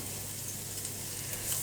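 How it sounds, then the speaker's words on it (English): Onions sizzle in salted butter in a pan, a soft, even frying hiss close by, steady and alone without any talk. "cook your onions until they go clear"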